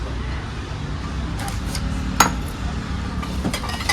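A small kadhai wok and little kitchen utensils are handled, giving a few light metallic clinks and one sharper clank over a steady room hum.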